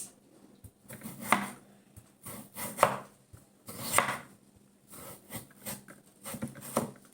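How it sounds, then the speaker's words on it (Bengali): Potatoes being cut into thin strips on a board, a run of rhythmic knife chops in short bursts with brief pauses, close and moderately loud. "আলুগুলোকে ওইভাবে সরু সরু করে কেটে নেব।"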